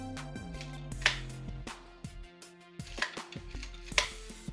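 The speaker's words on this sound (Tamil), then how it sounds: "இந்த க்ரீன் சில்லியை வந்து உள்ளே இன்சர்ட் பண்ணிவிட்டு நீங்கள் ஒரே ஒரு ப்ரெஸ் பண்ணிங்கன்னா போதும்" A hand-pressed vegetable cutter chops green chillies, making a few sharp, crisp chopping clacks close by with brief plastic rattles between presses.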